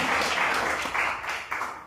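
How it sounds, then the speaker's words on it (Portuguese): A church congregation applauds with dense, continuous clapping that swells in waves, fairly loud and close, without clear speech. "dá uma salva de palmas para Jesus"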